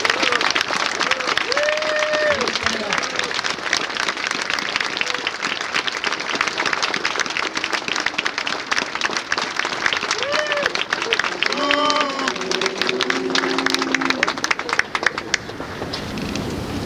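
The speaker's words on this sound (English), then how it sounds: "he deserves another round of applause for all he's done." Sustained applause from a large audience fills an indoor Pentagon ceremony honoring a military academy football team, steady and dense throughout with some voices and chatter mixed underneath.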